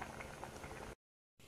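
Carrot coconut payasam bubbles in a pot, a steady close simmering patter that cuts out briefly to silence, then resumes.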